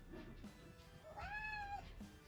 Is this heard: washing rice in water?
no